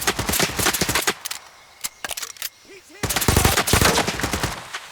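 Rapid automatic gunfire in the dinosaur shooter game Ferocious, loud close bursts at the start and again near the end with a quieter gap between, and a little voice mixed in.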